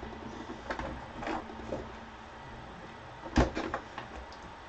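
A drawer is slid and handled nearby in a room, with a few scraping rattles and then a sharp bump as it shuts.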